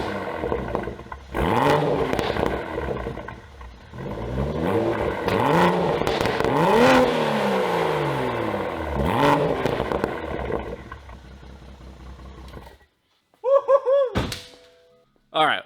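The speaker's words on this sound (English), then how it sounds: "I'm gonna rev it up just a little bit. I want to hear what it sounds like." A Toyota GR Supra engine revs up in several loud, sweeping bursts, rising and falling in pitch, then cuts off, followed by a short crackle and pop near the end.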